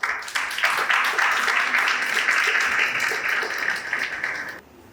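Studio audience on a talk show gives a big round of applause, a dense, steady patter of many hands that holds for about four and a half seconds before dropping off sharply.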